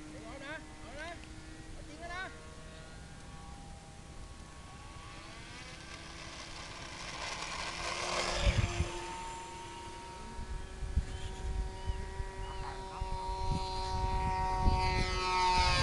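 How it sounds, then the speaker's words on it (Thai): An AT-6 trainer aircraft's engine hums with a rising, revving drone as it takes off, growing louder midway and then holding. Someone speaks over it throughout, against a faint tonal whine. "ดูเทรนเนอร์เทคออฟครับ"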